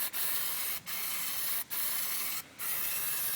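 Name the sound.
Plasti Dip spray-painting Cadillac Escalade rims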